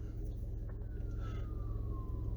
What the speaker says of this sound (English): I wonder if it's a fire truck or an ambulance this time